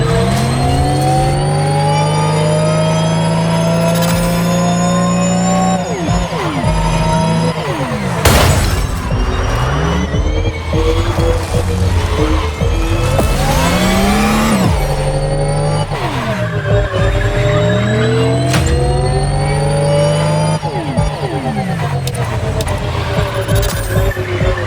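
A KTM 450 motorbike engine in The Crew Motorfest, revving loud and close through an off-road event with rising and falling pitch sweeps as it accelerates and shifts, joined by tire skids, throughout with no talk.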